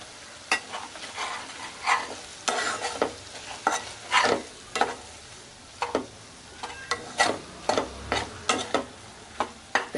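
Mutton sizzles in a pan with mutton masala, Agri Koli masala and turmeric as a spoon stirs and scrapes it, making repeated sharp clinks over a steady frying hiss, close and clear.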